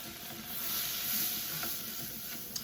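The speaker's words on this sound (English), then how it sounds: "I'm going to stir it up" Flour gets stirred into a hot pan of sizzling fat while making shepherd's pie, a steady bright crackling sizzle with soft stirring scrapes and a small tap near the end, up close with no talking.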